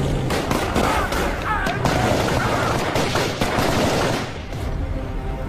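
Rapid bursts of film gunfire crackle continuously in a loud, dense volley as a team is shot at, shots overlapping with reverberant echoes before easing off near the end.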